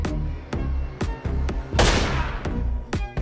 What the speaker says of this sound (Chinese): 但这时一颗子弹袭来